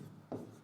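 A pen writes a short English sentence on a surface with a soft scratchy stroke, close and fairly quiet over a low steady hum.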